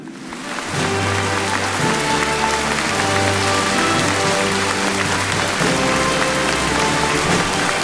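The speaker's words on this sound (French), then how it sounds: "je vous demanderai un tonnerre d'applaudissements pour la présidente de l'humanité, Geneva Delaval." Sustained applause from a large audience, mixed with steady music underneath, loud and continuous throughout.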